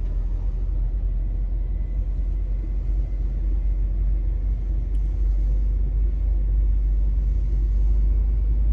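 A car rolls through the streets of Philadelphia's Feltonville neighborhood on a sunny day, with a steady low engine and road rumble heard from inside the cabin, continuous and unchanging, with no talking.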